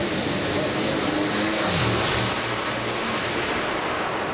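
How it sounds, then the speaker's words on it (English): Drag race cars at an NHRA Jeg's All-Stars event tearing down the track side by side, a steady loud engine roar that swells slightly midway, with a commentator's voice faintly present. "That's just a great drag race."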